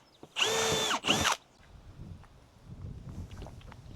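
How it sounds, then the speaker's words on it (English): A power drill bores drainage holes into the bottoms of plastic potato-planting buckets in two close, loud whirring bursts, followed by a low, quiet room background. "drill some drainage holes in the bottom"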